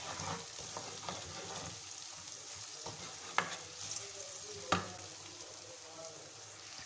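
Taro root (arvi) frying in a pan while being stirred: soft continuous sizzle with light scraping, a couple of sharper clinks from the spoon against the pan, quiet and close, no talk.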